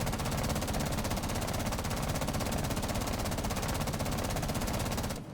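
Continuous automatic gunfire in Rainbow Six Siege, a sustained rapid stream of shots at an even rhythm, loud and close, cutting off abruptly at the end.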